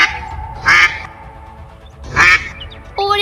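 A duck quacks loudly in two separate bursts, each a short raspy call close to the listener, over a quiet background, with a brief tonal sound at the end.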